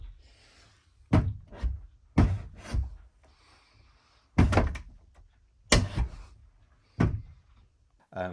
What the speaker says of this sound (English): the bathroom door was like binding on the plastic trim